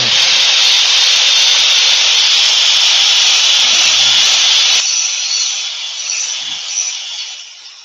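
A drill-driven sanding pad works a turned yew wood plate, a loud steady whirring rasp for several seconds that then drops to a softer, fading hiss.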